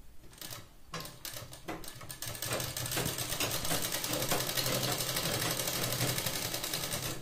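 A sewing machine stitches a blouse seam, starting with a few separate clicks and short bursts, then settling into a continuous fast, close mechanical chatter that grows steadier and louder.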